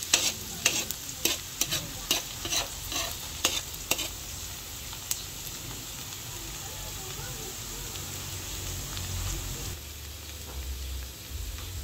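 Chopped garlic and onion fry in a pan for homemade spaghetti sauce, with a steady sizzle. Sharp utensil scrapes and taps come first, then the stirring settles into continuous crackling, with a voice faintly in the background.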